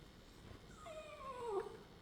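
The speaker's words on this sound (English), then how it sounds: "My little dog is complaining right now." A small dog whimpers in a single rising, wavering whine that swells toward the end, heard close and alone in a quiet indoor room.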